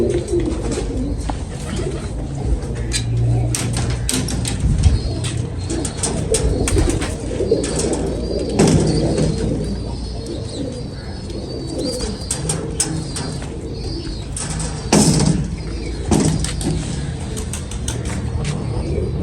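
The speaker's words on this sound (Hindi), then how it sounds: "बड़ा शानदार कबूतर है जी।" Pigeons coo repeatedly close by, with bursts of wing flapping and shuffling scattered throughout, and faint background traffic.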